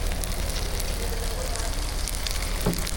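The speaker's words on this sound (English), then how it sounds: "And look at that sizzle." Birria meat sizzles loudly in a hot pan, a constant crackling hiss with sharp pops scattered through it.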